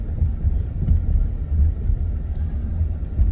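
A car drives slowly through a residential neighborhood, its engine and tyre rumble a steady low drone from inside the cabin with faint wind noise and no talk.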